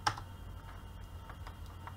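Computer keyboard keys tapped during structural steel roof truss drafting in Revit, a few faint scattered clicks over a low steady room hum.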